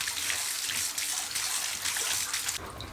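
Water runs steadily from a tap in a bath or laundry tub, rinsing filters, a close, continuous splashing flow that breaks off shortly before the end.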